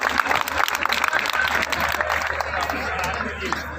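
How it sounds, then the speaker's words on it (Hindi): An audience at a mushaira poetry gathering breaks into sustained applause, dense clapping that carries throughout, with a voice speaking over the crowd. "जोरदार तालियों से इस्तकबाल कीजिए"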